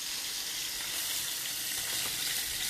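Potatoes and carrots fry in a big skillet, browning into crispy bits, a steady close sizzle with soft crackles running the whole time and no voices.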